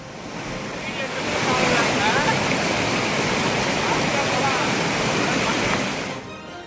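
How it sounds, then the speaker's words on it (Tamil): Flooded Suruli and Meghamalai waterfalls in Theni pour down in heavy rain, making a loud, steady roar of rushing water that swells and holds, then cuts off abruptly near the end. "தேனியில் உள்ள சுருளி அருவி மற்றும் மேகமலை அருவியில் தொடர்ந்து வெள்ளப்பெருக்கு ஏற்பட்டுள்ளது"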